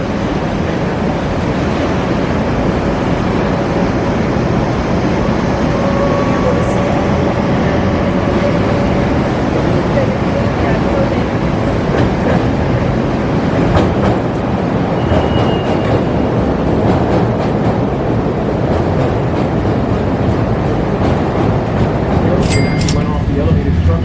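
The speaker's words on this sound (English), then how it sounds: "Now this train, which is our train, coming in, entering the loop," A Chicago elevated train rumbles on the Loop tracks, a dense continuous roar and rattle heard from aboard, loud and unbroken throughout, with a few faint squeals.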